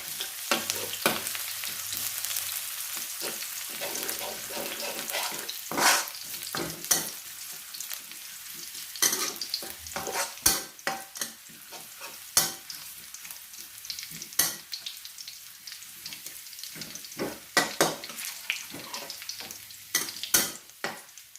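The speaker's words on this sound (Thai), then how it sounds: "อันนี้การเจียวกระเทียมเจียวเราต้องใช้ไฟอ่อนนะคะ" Garlic frying in a pan over low heat, a soft continuous sizzle with frequent spoon scrapes and taps as it is stirred, close and unaccompanied by voices.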